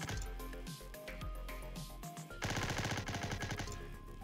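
Sniper rifle shots in a shooting video game ring out as a dense run of loud, sharp reports and blasts, with heavy rapid gunfire filling the second half over constant game noise.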